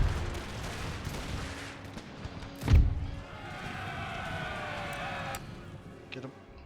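Musket fire in an Empire II mod battle of the 13 Colonies campaign, one loud close volley crack followed by distant scattered shots, a whistling sweep and a low battlefield rumble, with a voice briefly audible.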